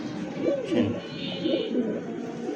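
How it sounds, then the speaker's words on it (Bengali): Pigeons, a farm or fancy-breed flock, coo softly at close range in low, throaty, rolling calls that repeat in a slow rhythm, with faint background noise. "আর কবুতরের ডাক দেবে"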